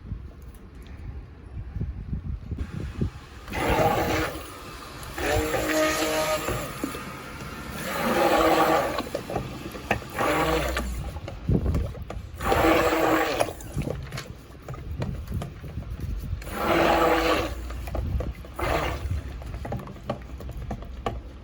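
A stick blender mixes cold process soap batter in repeated bursts, roughly five pulses of whirring and sloshing separated by quieter pauses, close and moderately loud.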